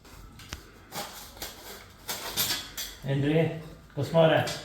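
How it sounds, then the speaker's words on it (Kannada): A knife cuts through a raw jackfruit in a home kitchen while it is prepared for biryani, making scattered scrapes and clatters. A few chopping bursts come first, then people talk over the later knocks. "ಹಲಸಿನಕಾಯಿ ಕಟ್ ಮಾಡ್ತಾ ಇದ್ದೀನಿ ಬಿರಿಯಾನಿಗೆಲ್ಲ ಪ್ರಿಪೇರ್ ಮಾಡ್ತಾ ಇದ್ದೀನಿ"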